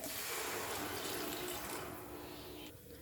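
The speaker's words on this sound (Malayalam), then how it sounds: "ഒരു ഗ്ലാസ് വെള്ളം ഒഴിക്കാം" Water poured from a glass into a cooking pot of vada curry simmering on the stove, a soft continuous splashing and trickling that stays quiet and fades slightly toward the end.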